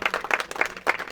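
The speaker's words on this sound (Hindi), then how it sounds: "इन लोग के लिए जोर से ताली बजाओ" A brief burst of clapping from an audience at a religious discourse, fairly quiet and uneven, with individual claps audible in a short ragged spell.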